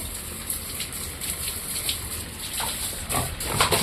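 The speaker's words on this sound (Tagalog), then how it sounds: "Ako na nang giligo kung baboy dito para bugnawan ba sila po?" Pigs being washed down with water, a steady wet hiss and splash running throughout with a brief louder burst near the end, loud and close.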